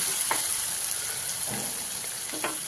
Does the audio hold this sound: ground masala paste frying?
yes